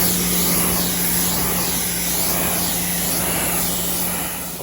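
A steady, loud rush of water spray rinsing a car during a wash with neutral car shampoo, continuous and close with no voices.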